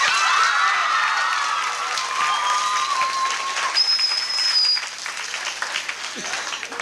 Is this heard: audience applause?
yes